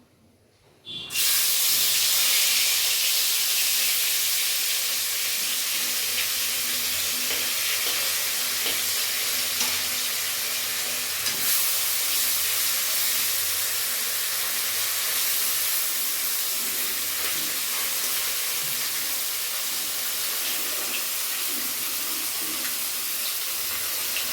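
Fish frying in hot oil, a loud, steady hiss that bursts in abruptly and holds at a constant level, close by with no voices.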